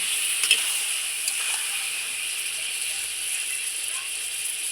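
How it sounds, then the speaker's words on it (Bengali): Eggplant frying in oil with salt and turmeric in a pan: a continuous bright, even sizzle with a few faint scrapes and clicks near the start, close and steady, no talking. "আবারও খুব সুন্দর করে আমি ভেজে নেব লবণ হলুদ দিয়ে বেগুনটা"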